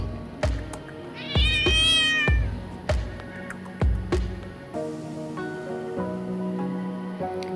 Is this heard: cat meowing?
yes